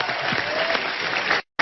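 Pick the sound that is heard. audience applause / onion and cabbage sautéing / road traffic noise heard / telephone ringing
audience applause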